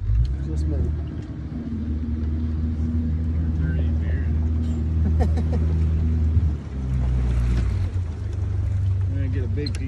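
A motorboat engine drones steadily on open water, a low continuous rumble with a brief dip near the middle, under voices talking.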